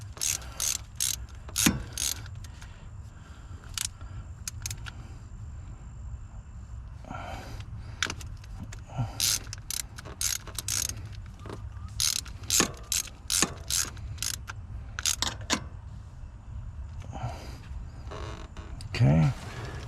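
Socket ratchet turning on a 7.3 Power Stroke glow plug relay, bursts of rapid close clicking in uneven runs, with low rumbling handling noise and occasional speech.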